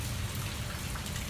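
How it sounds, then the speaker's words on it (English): Soft rain patters steadily at a moderate distance on a weekday afternoon, a brief low wash of drops and trickling water with no one talking. "it's raining"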